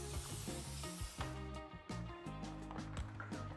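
Pressure washer foaming a car during a spring wash: a continuous broad hiss of spray runs under a pulsing low motor drone, with small surges as the spray shifts, fairly close and loud.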